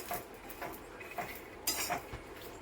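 Cumin seeds dry-roasting in a pan for a Kolhapuri peanut chutney, stirred with a utensil that gives quiet, irregular metallic scrapes and clinks at close range.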